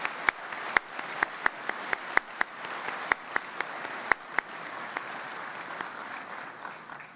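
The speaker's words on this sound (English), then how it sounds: "let's give this category a round of applause." An audience at a city address applauds award winners with crisp, scattered claps standing out over a softer bed of clapping that gradually thins toward the end.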